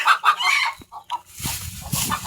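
A rooster crows loudly and close by on a farm, a couple of drawn-out calls followed by shorter clucking bursts, with softer farmyard noise underneath.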